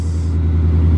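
A boosted VMP Black Mamba car engine runs with a loud, steady, deep rumble close by, holding an even idle with no revving and no voices.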